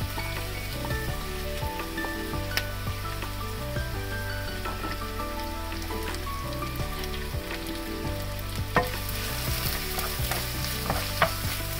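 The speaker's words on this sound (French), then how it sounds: "je mets juste un morceau d'oignon pour voir si la température est bonne" A piece of onion sizzles steadily in a hot pan, a soft continuous crackle and hiss with faint pops throughout, no talking.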